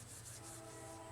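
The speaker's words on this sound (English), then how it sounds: "I'm sorry for the train" A train passes somewhere nearby, heard as a steady, faint low rumble with a soft hiss on top that holds evenly for the whole moment, with no voices.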